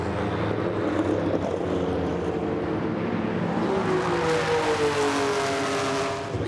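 Porsche Le Mans race cars, a Rothmans 956 and a 935, running at a Goodwood demonstration, their engines a continuous mid-distance roar that swells with a rising tone as one passes.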